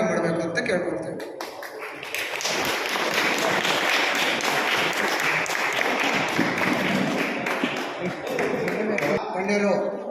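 Audience applause with scattered taps and thuds at a lamp-lighting inauguration ceremony, sustained and fairly loud for most of the stretch, with voices mixed in.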